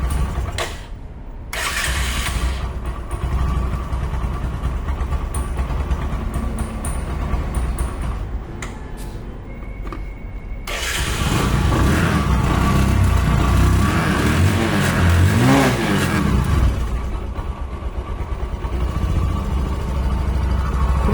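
A used Discover 100cc motorcycle idles close by, cuts briefly, then restarts on the self-starter and runs louder with rising revs and a rough, throbbing rumble.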